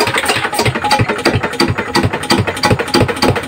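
A small engine powering an abaca fiber stripping machine runs steadily and loudly up close, with a regular chugging pulse throughout.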